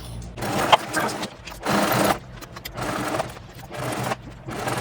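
A sewing machine stitches a backpack seam in several short bursts of whirring, separated by brief pauses. It sits close and fairly quiet, with no one speaking.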